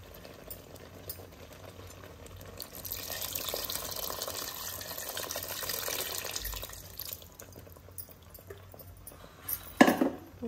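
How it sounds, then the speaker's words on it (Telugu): Tamarind juice is poured into a pot of sambar, a steady liquid pour swelling for a few seconds in a quiet kitchen, then a sharp utensil clatter near the end. "ఇప్పుడు చింతపండు రసం పోసుకోవాలండి."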